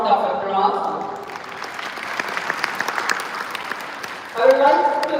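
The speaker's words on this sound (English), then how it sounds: "all deserve a big round of applause" Audience applause at the closing ceremony of an international conference, a dense patter of many hands clapping, framed by a voice at the start and end.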